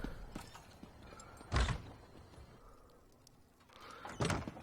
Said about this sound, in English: So here's the door here.